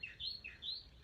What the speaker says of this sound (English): I talked and he started chirping.